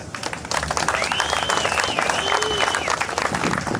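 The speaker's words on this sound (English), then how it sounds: "So I'd like all of you to give yourselves a big round of applause." A crowd of riders at a Region One MDA charity ride stage presentation applauds loudly and steadily for nearly four seconds, with a high whistle rising over the clapping.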